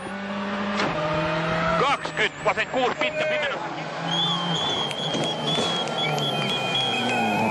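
Ford Focus RS rally car on a WRC stage in Bulgaria, engine revving and shifting with bursts of rapid acceleration, heard close under a commentator's continuous talk.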